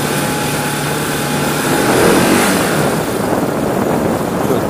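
An RS 200 motorcycle engine drones steadily while the bike is ridden along a road, with a continuous loud hum, slight swells in pitch and rushing wind noise throughout.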